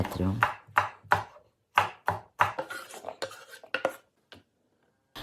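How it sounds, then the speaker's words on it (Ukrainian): Quick, crisp knife chops cutting bell pepper into thin strips on a cutting board in irregular bursts, some strokes closely spaced, then a pause and a final isolated cut. "Перець розрізаю вздовж на 4-5 частин, а впоперек тоді нарізаю на соломку"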